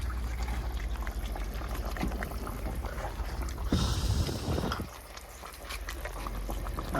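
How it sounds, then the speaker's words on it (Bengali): Water is poured from a bowl onto chicken marinating in sour yogurt, a short splashing pour rising mid-clip amid steady kitchen background noise, close and moderately loud, with no talking. "আর বাটি দিয়ে জলটা দিয়ে দেবো।"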